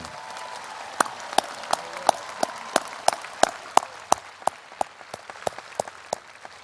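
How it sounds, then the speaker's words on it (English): Steady applause from an audience at a high school commencement, with a dense patter of clapping and a few sharp, louder claps standing out near the front. "Could we have a round of applause for the class of 2018?"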